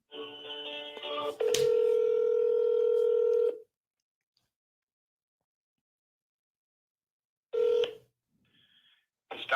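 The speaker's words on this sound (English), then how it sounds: "Oh, it's ringing." A telephone on speakerphone at a tire service shop gives a long steady ringing tone, then falls silent, followed later by a short second ring burst and faint clicks.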